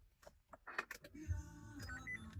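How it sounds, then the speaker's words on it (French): A short electronic startup chime of a few tones sounds from a 2025 Renault Kangoo E-Tech electric van, preceded by soft clicks and shuffling, fairly quiet overall. "la voiture va faire un petit bruit, un petit bip bip"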